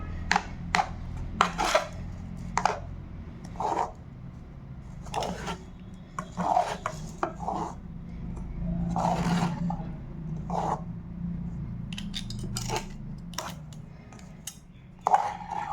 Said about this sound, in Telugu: పిండిని ఇలా బాగా మనం కలుపుకుంటే రొట్టి మనకి బాగా వస్తుంది.